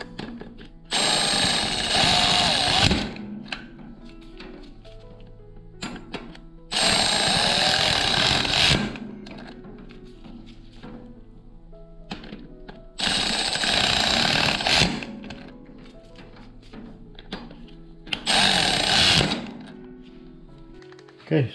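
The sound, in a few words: torquing brake rotor bolts on BMW R1200 GSA motorcycle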